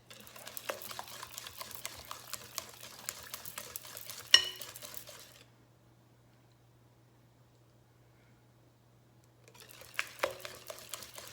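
Melted chocolate is stirred into eggs for peanut butter Kahlua brownie batter, a soft scraping and clicking of a utensil against a bowl that goes quiet for several seconds before stirring resumes, near and fairly faint.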